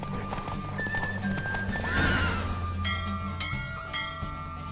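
A horse in The Witcher 3 gallops with steady hoofbeats, whinnying loudly partway through before the clip-clop carries on alongside game sounds, with no talk.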